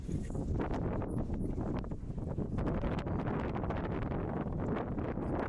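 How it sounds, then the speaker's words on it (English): Strong wind buffeting a microphone outdoors in South Korea, a constant loud rumbling roar with gusty fluttering, steady throughout with no voices. "I'm actually gonna go somewhere else where there's not so much wind"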